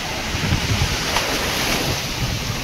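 Ocean surf at Rushikonda beach at high tide, a continuous broad wash of waves with wind buffeting the microphone, loud and steady with no talking.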